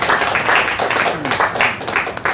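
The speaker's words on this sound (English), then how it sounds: "Give Dennis a round of applause." A room audience applauds Dennis, a man who grew up in Guyana, with a dense wash of clapping that swells and falls over a couple of seconds, steady and fairly close, with no talk over it.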